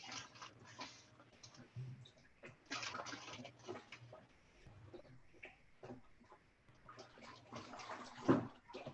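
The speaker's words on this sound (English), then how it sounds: "I'm just stirring the pot so the salt and sugar can dissolve." Salt and sugar brine being stirred by hand in a bucket, giving soft, irregular watery sloshes and swirls at moderate loudness, with a slightly louder splash near the end.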